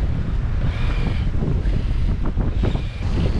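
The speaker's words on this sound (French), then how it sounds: "Maintenant 10 nœuds de vent" Steady wind roars across the microphone while a sailboat beats about 45 degrees off a 10-knot breeze, water and waves rushing underneath in a continuous, loud wash with no talking.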